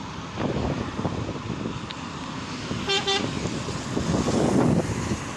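Car transporter truck's horn blasts once, a loud, brief honk amid steady roadside traffic rumble as vehicles pass nearby.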